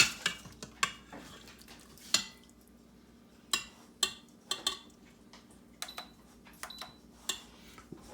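Pork and sauce spooned from a pot into a dish, a run of sharp metal spoon clinks and scrapes against cookware at an irregular pace, close and distinct over a quiet background, no talking.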